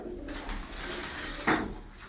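A breeding pigeon coos in a loft, one soft low call rising briefly near the middle over a faint steady background, close by, with no voices.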